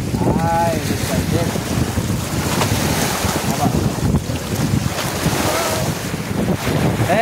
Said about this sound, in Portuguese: tá batendo muita água, tá ventando muito